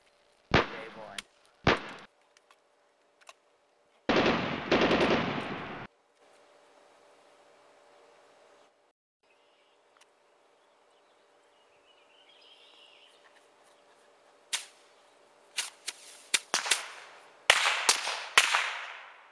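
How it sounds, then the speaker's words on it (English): Artillery fire in a World War One battle on the Somme, sharp loud blasts in separate bursts early on, a long quiet low stretch, then a rapid cluster of booms toward the end. "Artillery!"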